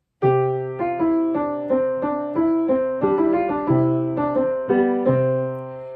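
Piano plays a steady sequence of single low notes, each struck and left ringing, roughly one every half second, with no talking.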